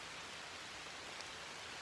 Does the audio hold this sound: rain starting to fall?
yes